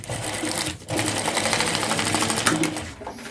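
A sewing machine stitching a fabric facing, its rapid whirring needle running close and loud, with a brief pause before it resumes steadily.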